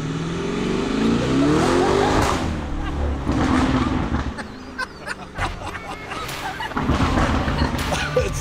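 A Lamborghini's exhaust roars and revs loudly outdoors, echoing off surroundings, while people talk and react over it.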